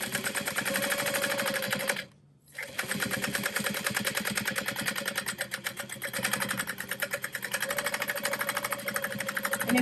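A sewing machine runs at high speed, basting around the raw edges of a Betty Bowler hat with a long stitch length. The steady rapid whirring is loud and close, with one brief pause near the start before it resumes.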